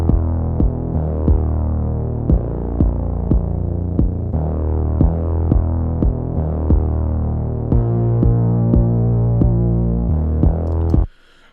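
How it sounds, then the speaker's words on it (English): A bass line plays alongside a steady kick drum, deep repeating notes with thumping hits at a regular pulse, loud and close, ending abruptly. "let's listen to it with the bass drum, or the bass sound"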